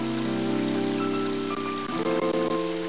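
Rain falls in the video game Mother 3, a steady hiss laid over a sustained game music track that plays throughout with no talking.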